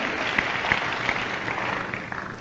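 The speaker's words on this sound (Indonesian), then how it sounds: "Dengan tepuk tangan saudaraku" A church congregation at a Pentecost sermon breaks into warm applause, many hands clapping in a steady, moderately loud wash for a couple of seconds with no speech over it.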